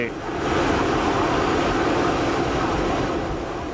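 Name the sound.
passenger aircraft at an airport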